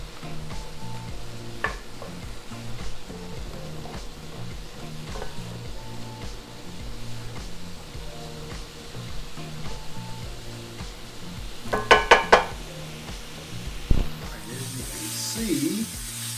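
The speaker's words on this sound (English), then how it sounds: "Gonna come back and stir some more. Make sure everything is getting cooked evenly." Philly cheesesteak meat sizzling in a pan and stirred, a continuous close frying hiss with a quick burst of metallic scraping clicks near the end.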